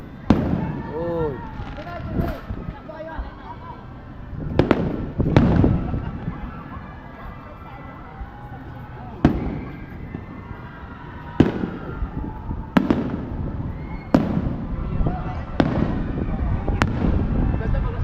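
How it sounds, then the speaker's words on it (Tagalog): Fireworks burst over the crowd at Enchanted Kingdom amusement park, with sharp booms landing every second or two from fairly close. Onlookers chatter and cheer beneath the blasts. "Napapan natin ang fireworks dito na sa Enchanted Kingdom."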